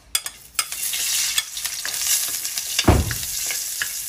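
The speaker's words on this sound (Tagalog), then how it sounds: "gisahin na natin ang ating mga panakot" Garlic sautéing in oil for Bisaya-style humba, a dense continuous sizzle with quick utensil clicks and stirring scrapes, and a louder clatter and spit near the end.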